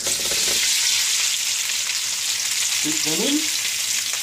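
Prawns frying in a pan of oil and butter over medium heat, a steady loud sizzle with stirring, and a brief spoken phrase over it.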